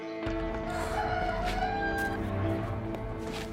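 A rooster crows up close in a long, loud cock-a-doodle-doo, with clucking fowl and steady background noise around it.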